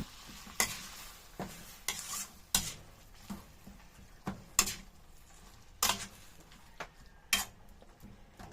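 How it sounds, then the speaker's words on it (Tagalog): Ground pork with its seasonings is stirred in a pan, with a spoon scraping in repeated sharp strokes roughly every second over a faint sizzle, close and alone without talk. "Mix lang po natin hanggang sa mag-combine na po itong ating mga sangkap dito po sa ating pork giniling."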